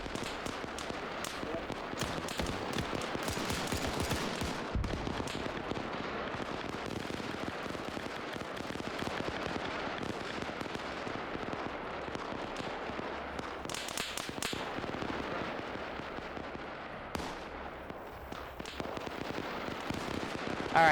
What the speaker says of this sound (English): There's a machine gunner right there.